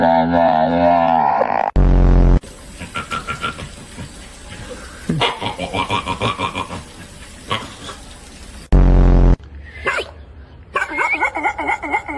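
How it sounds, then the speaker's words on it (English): A dog barks and yelps in loud, irregular bursts, broken up by sharp noisy blasts and short quieter gaps. "Can't go wrong with dog barks."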